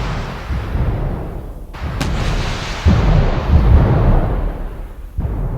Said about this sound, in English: I've changed this bomb to be more cluster bomb-like.